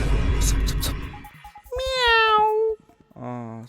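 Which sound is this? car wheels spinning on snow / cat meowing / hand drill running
cat meowing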